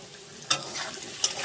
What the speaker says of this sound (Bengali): পনির ভাজা করছি, আলু আর পনিরটা